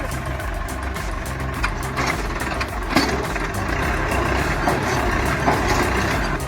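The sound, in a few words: Massey Ferguson tractor diesel engine idling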